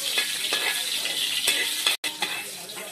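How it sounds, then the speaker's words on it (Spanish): Garlic frying in oil in a pan, giving a steady, dense sizzle with soft stirring scrapes throughout and a brief break near the end. "Vamos a echarle el ajo. ¿Mm? Este ajo cuando uno lo sofría igual es riquísimo."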